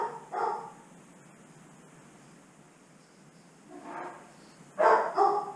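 A dog barks in short bursts: one near the start, then a few sharper barks near the end, with quiet room tone in between.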